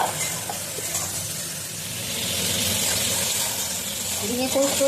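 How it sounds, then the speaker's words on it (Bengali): Sliced ridge gourd fries in a pan, giving a steady, even sizzle and hiss that holds throughout, with a faint voice in the background. "ঝিঙেটা একটু ভালো করে ভাজা ভাজা করে নিলাম"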